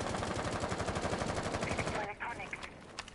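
Video game gunfire: a steady, fast stream of automatic shots fills the first two seconds. It then breaks off into a few scattered, quieter bangs.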